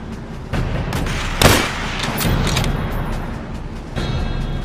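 Gunfire in Call of Duty: World at War, a series of sharp shots and booms cracking over a steady dense game soundscape, one heavier blast standing out early, with further bursts scattered after.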